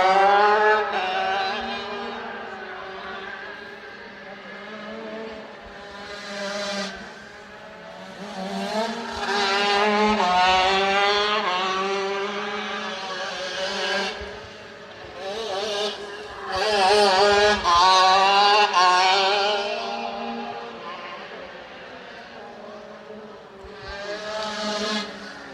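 80cc shifter karts in the Big Z Jerky class at the IKF Grand Nationals race past, their high-pitched engines rising and falling in waves as they rev, shift and swell louder then fade.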